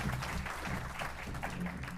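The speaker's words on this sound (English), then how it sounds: "Ladies and gentlemen, please give them a big round of applause." Audience applause at a conference session on regenerating land, a short, steady burst of clapping over a low room hum.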